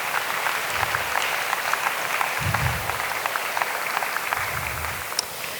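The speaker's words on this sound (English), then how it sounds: "So give yourself a round of applause." Students at a senior recognition ceremony applaud, a steady crowd clapping at moderate level with a few sharper individual claps standing out, and low murmurs underneath.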